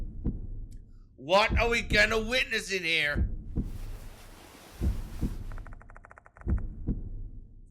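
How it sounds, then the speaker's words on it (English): Slow, low, muffled thumps of a heartbeat in the horror video game Spirit Hunter: Death Mark 2, pulsing at a steady rhythm beneath a person speaking and a stretch of airy hiss. "Heartbeat?"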